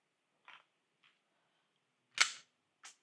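A handgun is drawn and unloaded: a few faint mechanical clicks, then a sharper, louder metallic clack and one more click, separated by quiet gaps.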